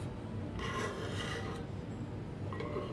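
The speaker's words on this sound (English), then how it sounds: "So switch to the scraper." A hand scraper shaves wood from a gunstock while inletting a swamped barrel with inlet black, giving close, dry rasping strokes in short, repeated bursts.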